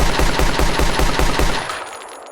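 A Type 4 semi-automatic rifle in a Minecraft gun mod fires a loud, rapid string of about a dozen evenly spaced shots, then breaks off and leaves a brief fading tail.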